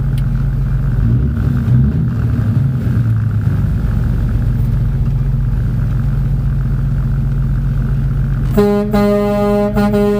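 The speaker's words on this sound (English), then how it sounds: "I ain't never stood in front of my truck when somebody blows the horn" A truck horn blares loud and close at a Christmas parade, a sustained harmonic blast near the end after a stretch of steady engine rumble.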